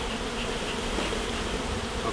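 Honeybees buzzing densely around a hive frame pulled during a varroa alcohol-wash sampling, a steady close swarm drone with no talk.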